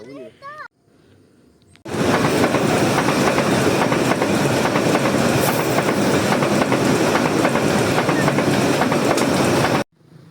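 A train rushes past close by, a loud steady roar with rhythmic clickety-clack for several seconds, after brief children's voices before it arrives.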